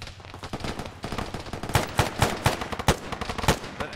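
Gunfire in the military shooter game Arma during a ShackTac squad battle: a steady string of sharp shots and bursts at moderate loudness, growing more distinct and punchy toward the middle.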